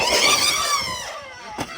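A two-stroke nitro engine on an Arrma Kraton 6S RC car screams at high pitch, its tone sliding downward as it passes, then a brief sharp bump near the end.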